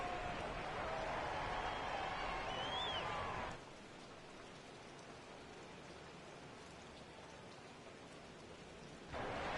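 Rain falls steadily over a stadium in the Madden 22 American football video game, a continuous hiss with crowd-like noise at the start, quieter in the middle and swelling again at the end.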